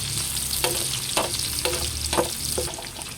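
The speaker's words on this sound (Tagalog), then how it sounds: "Akin na pong ginigisa po itong bawang at sibuyas" Garlic and onion sautéing in a hot pan give a steady sizzle, with several distinct stirring scrapes at irregular moments over the frying. No one speaks.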